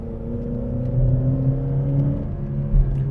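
A car engine, a Vauxhall Vectra or Citroen GSA, labors and builds under load accelerating uphill, a low rumbling drone rising through the gears, close and fairly loud.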